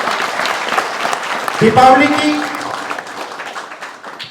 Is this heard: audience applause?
yes